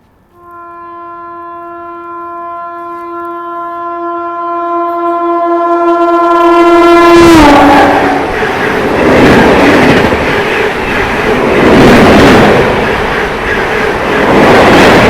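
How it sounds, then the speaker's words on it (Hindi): A train horn blares in a long steady tone, then a loud train rushes past, overtaking at about 130 km/h, with rumbling, clattering wheels that swell and stay close. "आई होप आपको हॉर्न की आवाज़ आ रही होगी इस वक्त"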